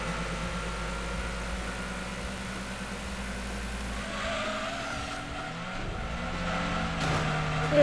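A Suzuki Cappuccino, a small rear-wheel-drive kei car, races in Gran Turismo 2, its engine droning steadily with skidding tire squeal layered over it, loud and continuous without voices.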